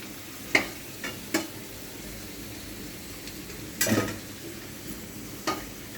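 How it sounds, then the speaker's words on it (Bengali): Potatoes frying in oil as they are lifted out, a low, even sizzle broken by several sharp clinks and scrapes of a utensil against the pan, close by. "লাল লাল করে তোমাদের দাদাভাই আলুগুলো ভেজে নিই"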